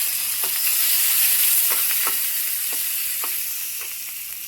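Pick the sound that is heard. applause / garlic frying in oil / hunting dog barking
garlic frying in oil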